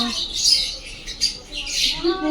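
Parrots at Darjeeling zoo give harsh, bright squawks in a few bursts, one near the start, a short one in the middle and another toward the end, fairly close, with faint voices behind.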